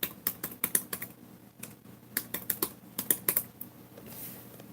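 Rapid clicking keystrokes on an HP dv8000 laptop keyboard, typed in quick bursts with short pauses, close and distinct, no voices.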